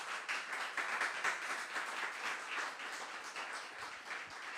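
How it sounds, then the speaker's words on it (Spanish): A church congregation claps steadily and densely, a sustained wash of applause heard from a moderate distance, with no speech over it. "Cuando le pueden dar una ofrenda de aplausos a Dios."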